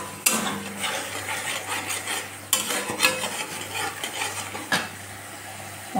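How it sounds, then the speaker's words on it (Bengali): Spice paste with salt and ripe green chillies fries in oil while being stirred in a pan, a close, steady sizzle with repeated scraping strokes and sharp knocks of the utensil against the metal. "মশলা ভাজা হয়ে গেছে, তেলও ছেড়ে দিয়েছে"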